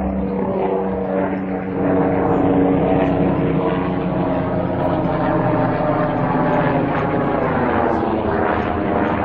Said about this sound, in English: Sorry, helicopter.